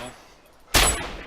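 A single loud, close sniper rifle shot in DayZ, aimed at the front wheel of a Hummer, bursts out sharply after a quiet lead-in and rings on briefly.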